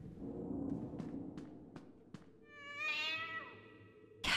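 Cat meowing in the Five Nights at Freddy's: Into the Pit horror video game, a drawn-out, wavering meow rising and falling near the end of the clip, heard over a low ambient game hum after a few soft clicks.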